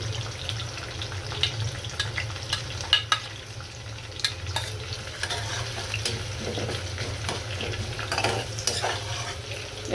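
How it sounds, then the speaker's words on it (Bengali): Liver, bay leaf, chopped onion and spices frying in a pan for a liver-and-potato curry, with a steady close sizzle, a low hum underneath and frequent spoon scrapes and clicks throughout, no voices. "আমি কলিজাটা বসিয়ে দিব, তেজপাতা দিচ্ছি, পেঁয়াজ কুচি, তেজপাতা সব মশলাগুলো আমি দিয়ে দিচ্ছি"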